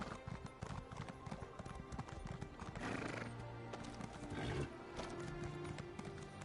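A horse in The Elder Scrolls Online gives loud neighs and whinnies over a steady clip-clop of hooves, with two clear whinny bursts standing out from the trotting rhythm.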